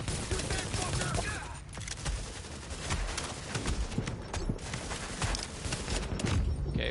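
Dense, rapid gunfire from The Division video game crackles continuously, with overlapping shots and bursts that stay loud throughout and no pauses.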